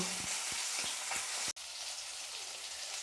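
Cut papaya and potato frying in a wok, a constant close sizzle with several soft regular knocks of stirring early on, then a brief dropout before the hiss resumes.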